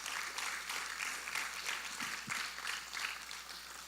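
A church congregation applauding, a steady patter of many hands clapping at moderate volume throughout, sustained without pause.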